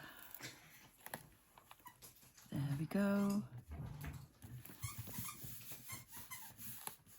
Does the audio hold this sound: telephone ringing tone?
no